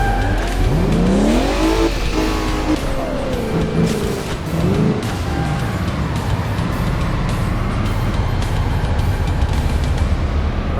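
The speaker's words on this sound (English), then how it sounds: "Nudge the back of the car, put it into a spin, stop in front of him" A car in the Crash Time IV PC racing game is nudged from behind into a spin, with loud continuous engine roar and swooping tire squeals throughout, no talking.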